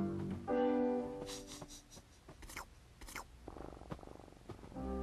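A soft, low rumbling purr of a cat, close by, with faint rustling and scratchy sounds around it.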